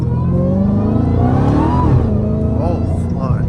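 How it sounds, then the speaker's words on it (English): A Dodge Challenger Hellcat Redeye engine revs loudly and close through its exhaust on the street, a steady roar that swells and dips, with rising and falling pitch sweeps near the end. "this car probably has one of the best sounding exhaust systems"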